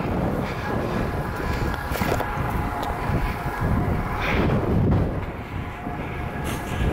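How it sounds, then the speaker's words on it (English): Headwind buffets a microphone while cycling on a road bike, a continuous rough rushing roar that swells and eases without pause. "There is quite a wind as well, headwind"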